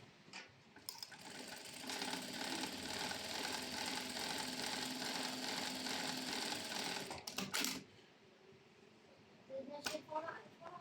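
A GS90 model 701D4 sewing machine stitches decorative pattern number 2 with a steady, fast mechanical whir for about six seconds, then stops abruptly. A voice speaks briefly afterward.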